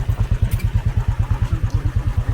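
A motorcycle is ridden at close range, with a loud, fast, regular engine thump that stays steady throughout.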